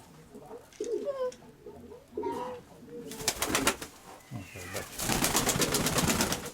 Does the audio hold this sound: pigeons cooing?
yes